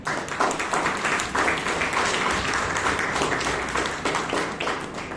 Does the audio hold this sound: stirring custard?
no